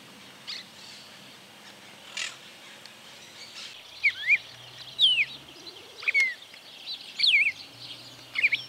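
Song of a saffron finch (jilguero dorado) in open countryside, with several short chirping phrases at moderate volume from about four seconds on, repeated at irregular intervals over a quiet background.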